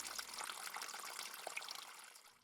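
Quiet, steady gush of spring water running out through a copper pipe, a soft continuous trickling flow heard alone at close range.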